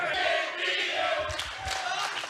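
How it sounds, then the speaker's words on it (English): A wrestling crowd at an Impact Wrestling show in Louisville chants loudly in a rising and falling roar that fills the arena, with commentary voices over it. "Listen to the crowd here in Louisville chanting at Eddie Edwards"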